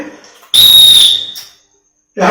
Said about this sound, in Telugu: అలా మనం వేసేసి లాంగ్ విజిల్ వేసి